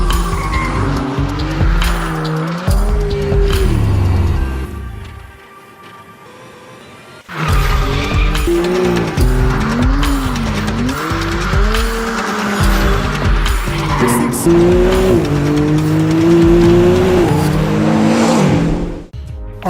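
A McLaren Artura hybrid supercar slides on track with loud tires squealing in long wavering tones over a hard-working engine, a brief lull midway, then more screeching.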